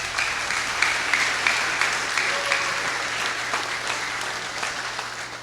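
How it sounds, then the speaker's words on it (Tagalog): A church congregation claps steadily for several seconds, a dense, even patter of many hands filling the room with no speech over it. "kailangan ng palakpak sa Panginoon"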